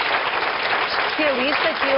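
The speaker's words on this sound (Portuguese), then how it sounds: "Uma salva de palmas para o nosso" Studio audience applauding a medical specialist guest on a Portuguese daytime health talk show, a steady dense wash of clapping throughout with a voice speaking over it.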